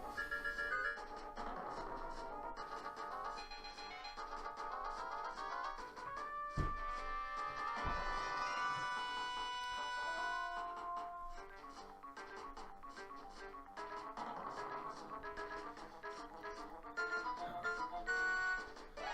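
A bright, chiming melodic Zelda overworld theme with bell-like tones and sustained notes plays steadily, with no voices.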